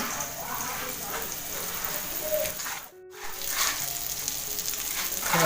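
Surmai fish slices frying in plenty of oil on a griddle give a loud, steady sizzle, broken by one brief pause, with light sounds of pieces being placed.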